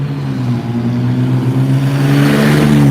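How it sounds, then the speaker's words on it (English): A loud red car drives past with a throaty, droning engine that grows louder and more insistent toward the end as it nears. "that loud red car drives by"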